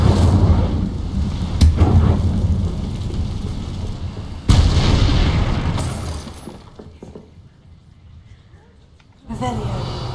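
An Incendio fire spell is cast in the video game Hogwarts Legacy, a loud whooshing, crackling blast that swells and fades, then a second sudden burst near the end.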